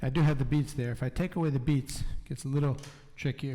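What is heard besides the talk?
No distinct noise like a dog, phone or traffic.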